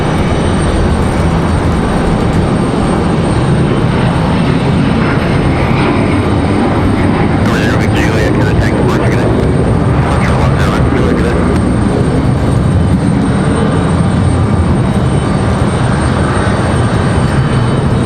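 A jet airliner takes off from a Raleigh-Durham airport runway, its engines roaring loud and steady throughout as broadband thrust noise, heard close and unbroken with no speech.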